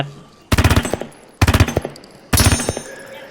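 Assault rifle fire in a zombie video game, three loud, rapid automatic bursts of close gunshots separated by short pauses.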